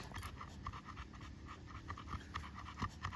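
Dogs pant steadily in rapid, rhythmic breaths, close and fairly loud, with faint scratching and shuffling around them and no talking.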